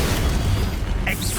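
A dense, sustained burst of magical explosion from the Confringo spell in the video game Hogwarts Legacy, loud and continuous throughout with a rumbling low end and crackling high hiss.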